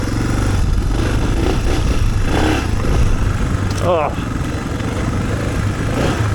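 A Suzuki DR650 dual-sport motorcycle with its stock exhaust accelerates away from a mountain cabin, a close, continuous engine drone rising in pitch while a rider's brief exclamation cuts in.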